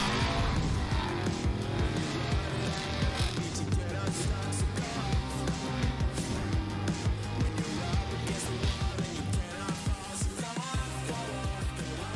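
A Ford Mustang drift car roars at a Formula Drift event with engine howl and tire squeal in a loud, continuous mix, with a voice speaking over it.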